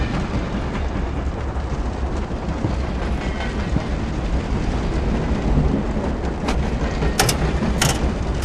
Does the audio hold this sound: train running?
yes